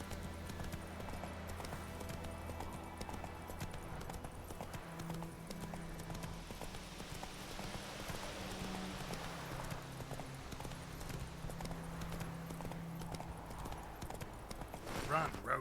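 Roach, a horse in The Witcher 3 video game, gallops with a steady rapid clip-clop of hooves under a bed of game music and ambience, continuing throughout.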